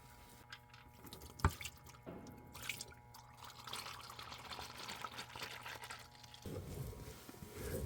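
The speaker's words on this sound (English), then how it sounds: "As you're letting your oil finish draining" Engine oil drains from a Hyundai Palisade's oil pan into a catch container, making a faint, steady trickle. Occasional drips and small clinks fall over the quiet flow.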